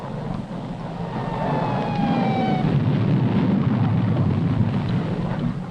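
Conventional high explosive detonates during a nuclear weapon test, a deep, rolling rumble that swells and then sustains as a broad roar, while a faint descending whine fades above it.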